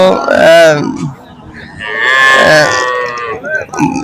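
A cow on a cattle farm moos loudly and close by, two long drawn-out calls separated by a short pause, followed by a brief grunt.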